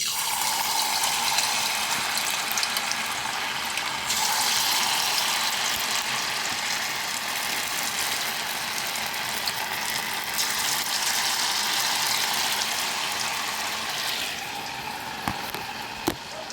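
Corn fritters frying in hot oil give a steady, close broadband sizzle that runs unbroken throughout, with a faint clink near the end.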